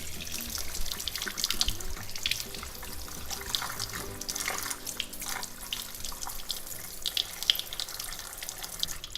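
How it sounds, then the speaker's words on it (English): Tap water running steadily into a sink while golden apple leaves are rinsed under it, a continuous close splashing with small irregular spatters. "So I'm just going to rinse out the leaves."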